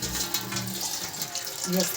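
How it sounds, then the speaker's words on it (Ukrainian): Water runs from a tap in a steady quiet hiss while it is drawn into a container. There is a soft clunk near the start and a brief tone near the end. "Зараз я наберу водички."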